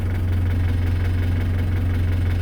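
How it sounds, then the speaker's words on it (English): A Series IIA Land Rover engine idles while warming up, a steady low rumble with an even mechanical knock, loud and close, running without a break and with no one talking. "So the engine's warming up."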